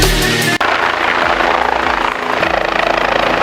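A helicopter at Kedarnath flies very close overhead, its loud, steady rotor roar and engine whine filling the air with a rapid chopping beat and a slight shift as it passes.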